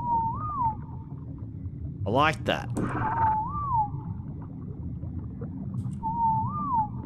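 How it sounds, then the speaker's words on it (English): A player's passive whistle command in ARK: Survival Evolved on the Ragnarok map: a short rising-and-falling tone sounds three times at steady intervals with an echoing tail, and someone speaks briefly between the first two. "I'm gonna whistle you on the passive."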